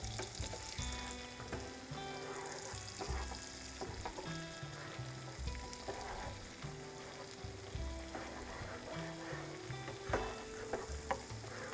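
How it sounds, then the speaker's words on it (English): Garlic and onion fry in a pan as the base of a lemon butter sauce, giving a steady, close sizzle with scraping stirs throughout and no talking. "we are just going to cook this until, you know, the garlic and onion are done without burning it."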